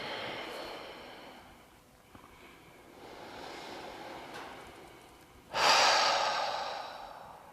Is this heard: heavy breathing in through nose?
yes